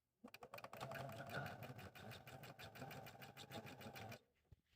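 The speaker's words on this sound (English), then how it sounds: "Go ahead and sew those on now." Sewing machine stitching fabric quilt pieces together, a fast, steady mechanical chatter of needle strokes running close and loud for about four seconds before stopping.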